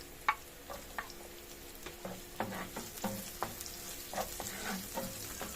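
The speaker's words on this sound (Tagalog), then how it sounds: "Kaya igisa na po natin itong bawang" Garlic sautés in hot oil in a pan for crispy pork kare-kare, a soft continuous sizzle with scattered light clicks and scrapes of stirring, fairly quiet and with no talking.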